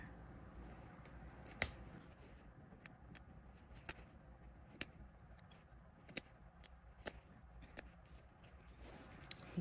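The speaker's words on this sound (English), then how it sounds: "Just gonna unpick a little section here." Stitches being unpicked from a seam in pleather with a seam ripper: faint, sparse little snips and ticks scattered irregularly over a quiet background, close up and delicate.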